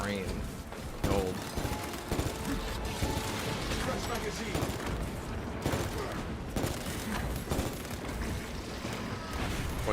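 Dense gunfire while shooting an Elite enemy in Space Marine 2, rapid bursts of shots and impacts layered with game effects, continuous and loud throughout, with someone talking over the action.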